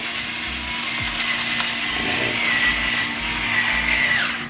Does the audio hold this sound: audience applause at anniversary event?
no